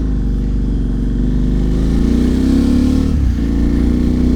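Motorcycle with loud aftermarket pipes revving, a deep steady engine roar that climbs in pitch toward a peak and then drops back, heard close and loud with no talking.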